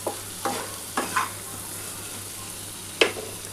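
Onion frying in a pan for prawn and potato curry, a quiet steady sizzle broken by several spatula stirs and scrapes, one sharper clatter near the end, no talk.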